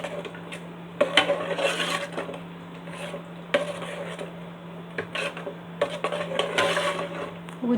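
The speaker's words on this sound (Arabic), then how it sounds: "نقلبها كويس كده في بعضها" A spoon scrapes and clatters around a pot as a chili-spiced stuffing mixture for mumbar is stirred, steady rubbing with sharp metallic knocks, over a constant low hum.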